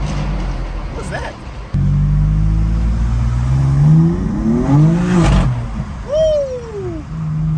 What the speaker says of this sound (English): The next thing I really love about BMW M4s is this. They sound so freaking good, man.